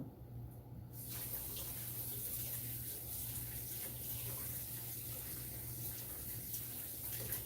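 Running tap water pours steadily as kitchen whisks are rinsed under it, a soft, even, continuous splash that starts abruptly after a brief quiet moment and continues at low volume with no talking.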